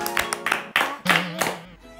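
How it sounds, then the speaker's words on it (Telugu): Students in a tuition class clap in short, uneven bursts of hand claps, mixed with lively voices and shouting. "చప్పట్లు కొట్టండి"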